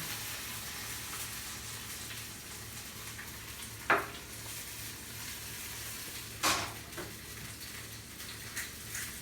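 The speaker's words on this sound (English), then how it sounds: "We'll go ahead and throw our olives in." Olives fry in a pan for a ramen frittata, a soft steady sizzle with two sharp bursts of louder spattering as they go in and are stirred.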